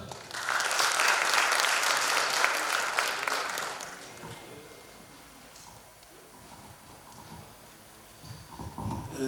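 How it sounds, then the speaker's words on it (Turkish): Applause rings out at an award ceremony for sports journalism, a loud crowd clapping for about four seconds before it fades into quieter room noise and scattered claps. "Efendim alkışlarla."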